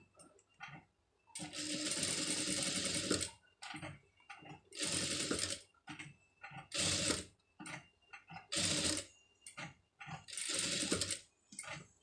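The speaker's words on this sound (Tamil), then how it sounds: "இப்போ இதை அப்படியே வச்சு தையல் வந்து போட்டுடலாம்" Sewing machine stitching a sleeve design, heard alone in repeated bursts of rapid mechanical chattering, each running one to two seconds with short quiet pauses and faint handling clicks between runs.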